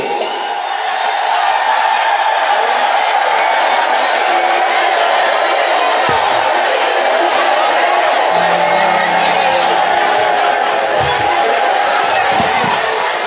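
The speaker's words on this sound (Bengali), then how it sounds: "উলুধ্বনি দাও জোরে জোরে" A large audience at a live Bengali kirtan performance of Bhajo Gouranga ululates together, a loud, dense, continuous warbling chorus that holds steady for the whole stretch.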